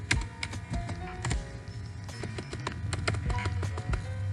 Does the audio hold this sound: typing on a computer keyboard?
yes